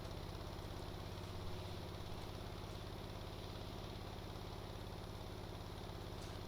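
A vehicle engine in the game Stormworks, running in fifth gear while carrying a load, gives a quiet, steady low droning hum with a faint regular pulse throughout, with no talk over it.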